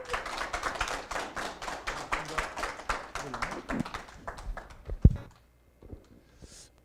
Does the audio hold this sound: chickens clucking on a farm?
no